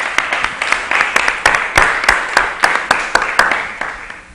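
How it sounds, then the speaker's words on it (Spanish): An audience claps for an artist at an art event, a steady round of close, crisp hand claps in an even rhythm that slowly thins out, with no talking. "Les pido también un aplauso para Alejandro."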